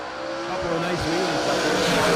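Drag racing cars launch at a track event, with engines roaring loudly and tires chirping in a short, dense burst while an announcer talks over the noise.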